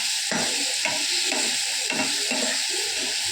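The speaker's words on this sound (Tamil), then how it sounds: "எல்லா பன்னீரையும் போட்டாச்சு. இப்போ நல்லா வறுபடணும்." Paneer cubes frying in a home kitchen pan give a steady, fairly loud sizzle with stirring scrapes recurring every half second or so, and no voices over it.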